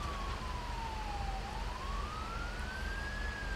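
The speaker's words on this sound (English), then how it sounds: "he keeps changing the siren tone as well" A police siren from the video game GTA 5 wails steadily, sweeping down then rising again in pitch, loud and continuous over a constant rumble, with no talking.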